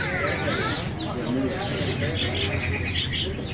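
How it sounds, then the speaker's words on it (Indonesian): Golden bulbuls and other caged birds chirp in a crowded bird market, a steady background chorus of tweets and calls running under a man's speech. "Di depan kita ini ada burung kutilang emas ya."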